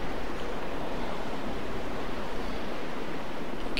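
Water pouring in to fill a pond in The Legend of Zelda: The Wind Waker, a steady dense rushing hiss like a waterfall, continuous and fairly loud with no pauses.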